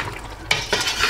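Palm oil is stirred in a cooking pot, with a loud metal clank of a spoon against the pot midway, followed by scraping and stirring with a faint sizzle, close by and without talk.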